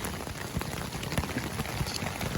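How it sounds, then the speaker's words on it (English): Steady rain patters on a surface, a dense, even wash of drops with a few louder taps, close by and continuous. "it's been raining quite a bit."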